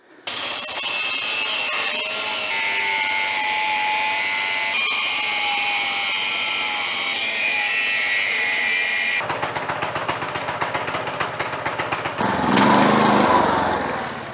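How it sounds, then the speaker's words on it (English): A small go-kart engine runs steadily with a buzzy drone and rising and falling pitch that suggests passes nearby. Near the end it turns choppier and briefly louder. "it's about going out and having fun with the go-kart"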